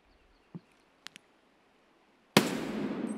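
A gunshot in Escape from Tarkov, one sharp, loud crack followed by a lingering rumble after a few faint clicks and taps in near silence.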